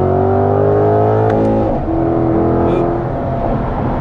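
A 2022 Corvette C8-R Edition engine pulling hard in third gear in sport mode, a loud, close, rising rev heard from inside with a quick shift break partway through.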